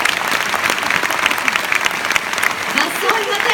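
A theatre audience at a live comedy show breaks into dense, sustained applause, loud and close, with a voice faintly heard underneath.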